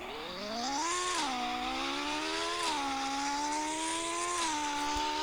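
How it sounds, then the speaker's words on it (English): A Ferrari SF90 Stradale driven in the Roblox game Car Dealership Tycoon, its synthetic engine note holding a loud, steady tone that rises, dips and rises again as it revs and shifts, with no talk. "The SF90 can't do donuts because it's all-wheel drive."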